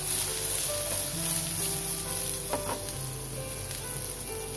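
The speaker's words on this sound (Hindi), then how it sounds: "चनों को बस हल्का रोस्ट करना है" Boiled black chickpeas sizzle softly while roasting in a pan, a steady close frying hiss with faint stirring clinks and no talking.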